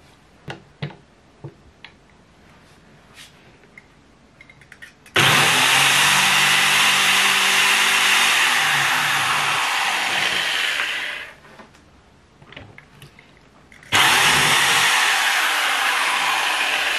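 A power drill whirs loudly in a sustained run of about six seconds, stops, then starts again after a pause of light tapping and handling noise.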